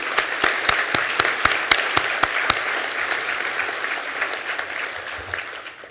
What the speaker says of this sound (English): Let's hear a round of applause for that one.